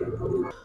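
A Bagha Silver Musaldom pigeon coos briefly up close, one short low throaty call fading out at the end.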